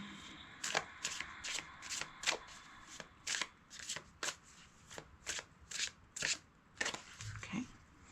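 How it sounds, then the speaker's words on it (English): Deck of cards shuffled repeatedly in a quiet room, a steady series of crisp riffling bursts about every half second, close and clear with no talking. "We're going to pull some cards from this last deck for your advice for today."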